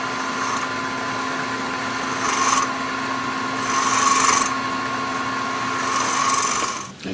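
A wood lathe turns a pill box while a round nose scraper works the piece, a steady close rasping drone with a hum, swelling in brief louder scraping passes as speed is raised.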